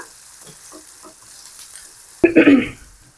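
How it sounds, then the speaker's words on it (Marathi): Chopped onion frying in a pan, a quiet low sizzle with soft stirring touches that gives way to a sudden louder burst of hissing and scraping near the end. "आता आपल्याला हा कांदा चांगला परतून घ्यायचा तळून घ्यायचा"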